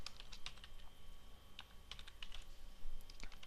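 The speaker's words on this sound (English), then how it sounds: "So I'll start typing it straight away." Typing on a computer keyboard up close: quiet, irregular clicking keystrokes at a quick pace, alone without any talking.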